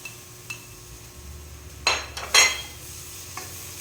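Cheese is stirred into food in a pan: a quiet background hiss broken by a few sharp scraping and clinking strokes of a utensil against the pan, with no one speaking.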